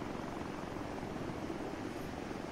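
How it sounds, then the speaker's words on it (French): A helicopter in the military sim game ArmA 3 comes in to land, giving a steady, dense rotor and engine roar that holds at an even level throughout with no pauses. "Hey, cours pas trop proche de l'hélico, il va t'atterrir dessus."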